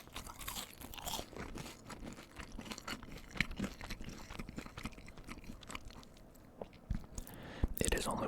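Crunchy close-up chewing and biting on a McDonald's double cheeseburger, bacon quarter pounder and medium fries, with repeated soft crunches and mouth sounds throughout and a few sharper bites near the end, with faint speech-like murmurs.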